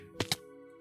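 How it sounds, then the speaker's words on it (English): A Minecraft firework goes off as two quick, sharp pops about a tenth of a second apart, close and fairly loud, over a steady tonal game-music background. "Oh, you hear the firework?"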